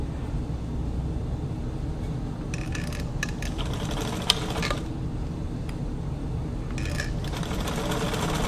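A White 1044 sewing machine runs steadily with a constant mechanical whir, its stitching mechanism clattering briefly in short bursts partway through and again near the end, close and fairly even in level.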